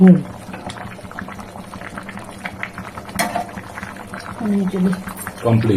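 Something bubbles and boils in a cooking pot, a close, continuous gurgle with occasional stirring, while people talk over it.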